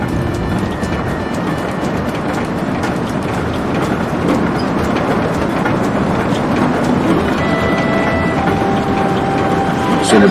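A train rolls heavily over a railway bridge in The Saboteur video game, a continuous loud rumbling clatter of wheels and wagons that holds steady from start to finish.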